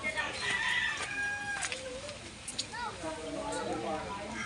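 Hen clucking and squawking close by amid a lively farmyard, with people talking over the bird calls.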